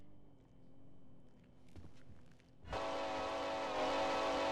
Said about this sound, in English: damn, that train's fucking loud.